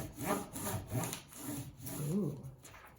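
Green crayon rubbed back and forth over paper laid on a comb, giving repeated rough scraping strokes about every half second, close and fairly loud with no talk.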